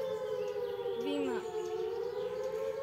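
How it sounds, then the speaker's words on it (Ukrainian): A civil defense air raid siren wails without pause across the whole stretch, loud and sustained, with its pitch sliding and wavering partway through. No one speaks over it. "Повітряні тривоги."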